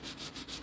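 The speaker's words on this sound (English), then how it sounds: "I'm wet sanding this with rubbing compound" Wet sanding of a boat fairing by hand with rubbing compound, a close, rhythmic rasping rub in about three or four even strokes with no voices.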